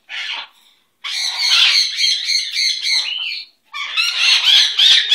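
A pet bird lets out loud, harsh squawks in close bursts, a short call followed by two longer raucous stretches with brief pauses between them.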